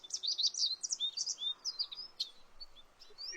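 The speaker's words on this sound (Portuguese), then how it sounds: "Esses passarinhos, por exemplo, que estava lindo aqui, passando ali, cantando agora" Small birds chirp and tweet in quick, bright overlapping phrases, moderately close, over a faint outdoor hush with no talking.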